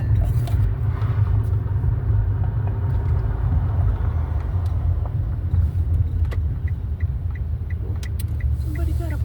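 A Porsche car passes by outdoors near a local creek, its engine giving a steady low rumble that holds loud throughout, with faint rustling on top.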